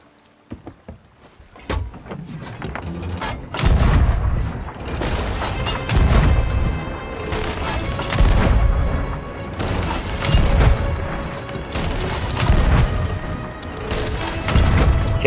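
Repeated heavy booms of cannon fire strike at a ship in the pirate game Sea of Thieves, arriving every couple of seconds over a steady churn of water and creaking timber, loud and close.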